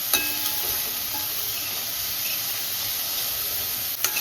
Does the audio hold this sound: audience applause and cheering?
no